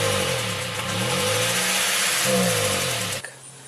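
An Acura Integra engine runs steadily at idle, a close, continuous mid-pitched hum with a slight rise in revs partway through before it cuts off near the end.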